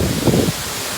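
Strong wind gusts through oil palm trees beside a house, a loud, close roar with rustling fronds that swells briefly and then settles into a steady rush.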